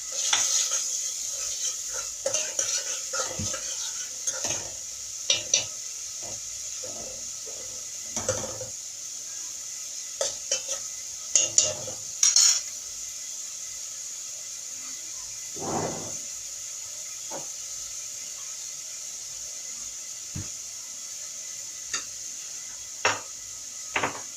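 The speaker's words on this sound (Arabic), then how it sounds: "هصفر البصله وارجع لكم تاني" Onions frying in oil in a pan give a steady, soft sizzle, broken by scattered clicks and scrapes of stirring; no talking.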